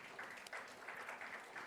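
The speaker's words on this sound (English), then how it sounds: "A big round of applause, please." Applause from the audience at an HR leadership panel session in Pune, a steady, fairly faint wash of clapping that runs throughout without any speech.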